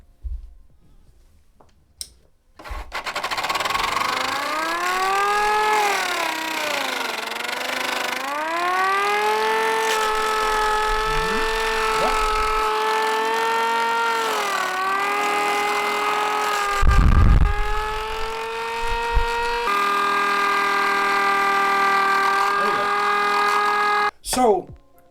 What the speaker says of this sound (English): I built a fucking air raid siren